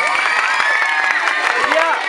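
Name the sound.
applause and cheering for the deputy leaders at camp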